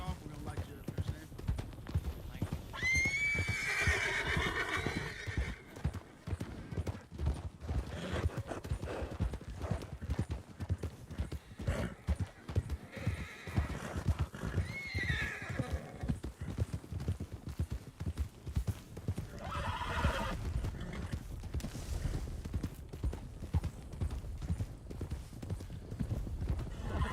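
Horse hooves clip-clopping at a steady trot in Red Dead Redemption 2 roleplay, with a brief neigh early on, running continuously under frequent voices talking over it.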